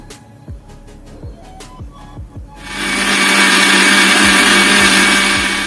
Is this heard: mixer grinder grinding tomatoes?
yes